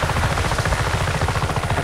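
A helicopter flies in the open-world video game Just Cause 3, its rotor thudding in a fast, steady, loud pulse with a constant engine whine, close and continuous with no speech.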